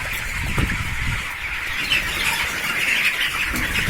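English chickens squawk in a continuous busy chorus, with a bright steady chatter, scattered louder cries and occasional wing flaps, close by and with no talk over it.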